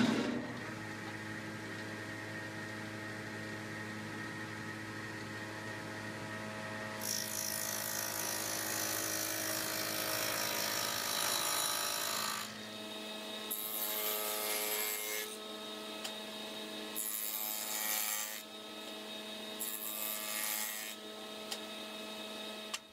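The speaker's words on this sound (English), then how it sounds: "I think I'm going to remove this small section of material on the dado head cutter on the table saw." Table saw with a dado head cutter removing wood: a steady motor hum and whine, then a harsher, louder cutting roar that pulses in several passes as stock is fed through, with no talking.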